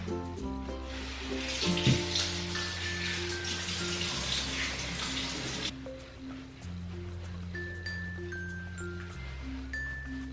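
Tap water runs steadily while face cleanser is rinsed off during a night skincare routine, a broad hiss for about six seconds that then stops, leaving a quieter room with a low tonal hum.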